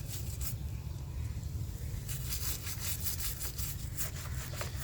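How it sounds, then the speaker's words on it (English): A brush scrubs corrosion off a car battery with baking soda and hot water, a close, steady series of rapid rasping back-and-forth strokes that grows busier midway, with no talking. "take your brush and gently scrub the corroded areas"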